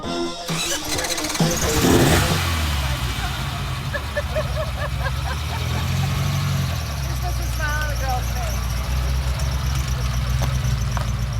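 A Ferrari engine starts with a loud bark and revs, then settles into a steady, rumbling idle close by, with faint background noise throughout.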